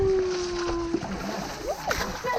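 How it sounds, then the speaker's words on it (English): Water is splashed onto an elephant at an elephant sanctuary in Chiang Mai, a couple of short, close sloshing splashes near the end, with a voice speaking and a brief whistle-like tone earlier. "You just splash water on it?"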